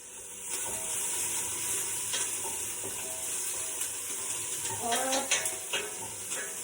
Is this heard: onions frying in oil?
yes